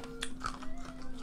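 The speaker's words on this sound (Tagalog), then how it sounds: "Kapag kinakagat mo siya, sobrang crunchy niya." Crunchy sour gummy candy is bitten and chewed up close in a few sharp, brittle crunches, with a faint steady hum underneath.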